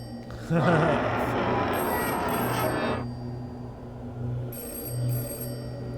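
A phone rings with a steady electronic tone, repeating in bursts over a low hum and faint background noise.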